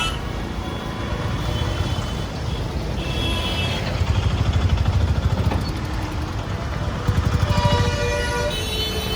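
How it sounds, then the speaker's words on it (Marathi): Early-morning road traffic in Pune makes a dense, steady roar of motorcycles and cars close by, with occasional horn toots and honks rising above the constant engine noise. "पुण्यातली ट्रॅफिक बघा."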